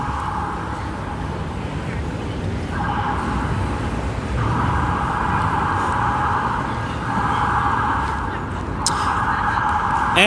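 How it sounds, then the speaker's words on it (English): A wailing ambulance siren sweeps up and down as it passes along a busy Manhattan street on a Saturday night near Park Avenue, loud and steady over rumbling traffic noise. "let's wait for this ambulance to pass."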